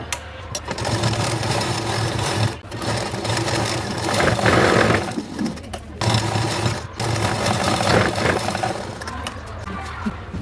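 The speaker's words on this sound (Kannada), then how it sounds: "ಇದನ್ನು ಡಬಲ್ ಸ್ಟಿಚ್ ಮಾಡ್ಕೊಳ್ಳೋಣ" A sewing machine double-stitching a blouse runs in steady bursts, whirring continuously with brief pauses near the 2.5 and 7 second marks, close and fairly loud.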